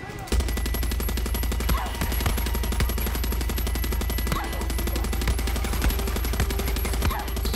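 Machine gun fire in the shooter game Far Cry 6, a dense rapid burst of shots rattling on almost without pause for about seven seconds, loud and close, with faint game sounds underneath.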